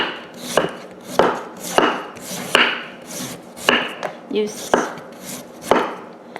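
A knife chops through firm jicama on a cutting board, about ten sharp, evenly spaced strikes at a steady slow rhythm, close and fairly loud with no talking.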